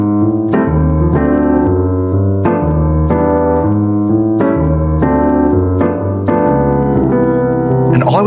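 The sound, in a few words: jazz chord progression with comping rhythm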